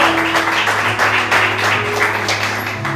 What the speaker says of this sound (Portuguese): Você pode aplaudir Jesus bem forte.